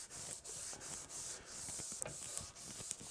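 Rust being buffed off a metal lathe with WD-40, a steady faint rubbing and scrubbing with repeated strokes and a few small clicks, no voices.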